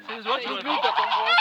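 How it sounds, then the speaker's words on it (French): Geese on a farm in the Loire honk loudly and close by, a dense cluster of overlapping nasal calls lasting just over a second. "Alors là, les oies sont en train de se moquer de nous en fait."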